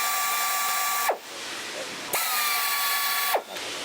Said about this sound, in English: We're going to start with chamfering the holes.